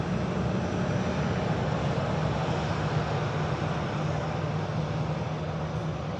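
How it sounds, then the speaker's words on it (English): A Virgin Atlantic A350 airliner climbs away from Manchester with its gear up, its jet engines producing a loud, steady broadband roar that holds evenly throughout. "Gear up the Virgin Atlantic 350."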